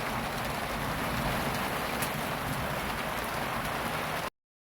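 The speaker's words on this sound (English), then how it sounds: "I love thunderstorms in the summer." Heavy summer thunderstorm rain pours down steadily as a dense, loud hiss of drops drumming on surfaces, constant throughout before cutting off abruptly.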